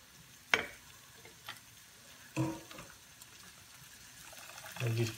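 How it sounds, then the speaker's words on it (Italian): Pasta cooking water poured into a pan of frying mushrooms and tagliolini gives a quiet sizzle with soft splashes and clinks of stirring, a few sharp bursts amid a low background. "Aggiungiamo un po' d'acqua di cottura."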